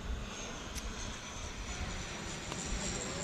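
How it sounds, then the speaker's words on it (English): A Yeti Airlines plane passes overhead near Biratnagar's airport: a faint, steady, distant engine drone that holds for several seconds under broadband outdoor noise. "Just actually hear a Yeti Airlines plane go overhead the Barawa International Airport"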